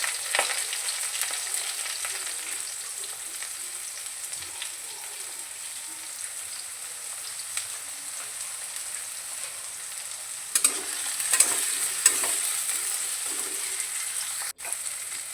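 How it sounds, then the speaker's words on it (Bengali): Onion, then garlic and chopped chili, fry in hot oil in a wok, a close, steady crackling sizzle with occasional sharper spits and stirring scrapes, no talking. "কড়াইতে তেল দিয়ে দিয়েছি, এর মধ্যে পেঁয়াজ দিয়ে দিচ্ছি"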